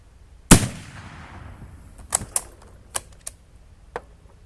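A .308 rifle fires a black powder load with one loud, sharp shot and a long fading tail, followed by several fainter, quick clicks and knocks. No one speaks.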